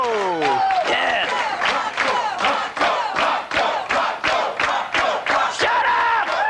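A studio audience at the Beach Boys Endless Summer TV show cheers, whoops and applauds loudly in a dense, continuous roar of many voices and claps, with rhythmic chanting bursts close by.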